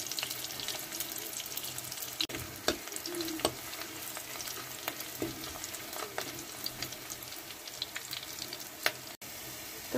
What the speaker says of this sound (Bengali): তো পেঁয়াজ আর রসুনটা আমি দিয়ে দিচ্ছি, হালকা একটু ভেজে নিব